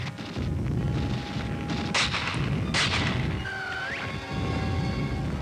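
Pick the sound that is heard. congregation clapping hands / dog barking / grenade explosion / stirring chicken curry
grenade explosion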